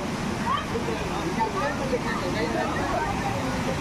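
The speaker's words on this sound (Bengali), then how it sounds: "ঝর্ণার জল পুরো এসে এখানটায় আছে।" Water rushes steadily from a waterfall at Maithon Dam, a continuous broadband roar heard close by, with a faint murmur of distant crowd voices beneath it.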